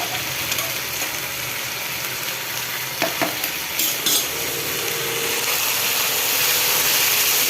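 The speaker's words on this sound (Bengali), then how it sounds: "এটা আমার ভাজা ভাজা হয়ে গেছে মশলা" Spices frying in oil in a pan give a loud, continuous sizzle and hiss, with a few scraping stirs partway through and the sizzle swelling steadily toward the end; no one speaks.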